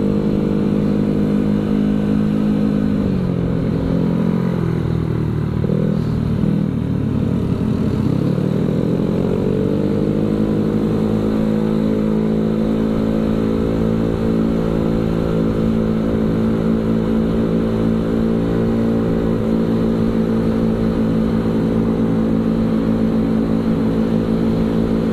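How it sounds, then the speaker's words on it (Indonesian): Yamaha Mio motorcycles fitted with modified KRR exhausts rev hard, with the engine note rising and falling before settling into a loud, sustained drone that stays close and steady throughout. "Knalpotnya pada bobokan ini satu bengkel ya dari KRR yang Mio God sama si Silver"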